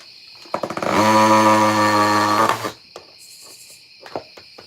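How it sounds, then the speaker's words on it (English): A power drill in hammer drill mode whirs loudly for about two seconds with a steady buzzing whine, then stops, followed by a few faint clicks and taps. "If you're wondering why I got this thing in hammer drill mode, I don't know. It sounds good."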